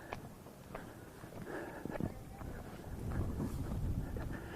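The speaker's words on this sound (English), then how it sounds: "A little bit windy." Steady outdoor wind buffeting the microphone on the Flattop trail area near Anchorage, Alaska, a low continuous rumble that swells louder toward the end, with faint scattered rustles.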